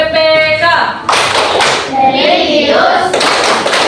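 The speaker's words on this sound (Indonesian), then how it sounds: "maka kita akan melakukan tepuk PPK dan salam PPK." Rhythmic classroom clapping chant, tepuk PPK, with bursts of sharp hand claps alternating with a chanting voice, loud and close.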